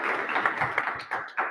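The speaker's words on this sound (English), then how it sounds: "can you clap for Colin to come up" Audience clapping at an artist mixer information session as Colin, a curator, is called up: a dense patter of hand claps filling the room, moderately loud, with a few sharper claps standing out near the end.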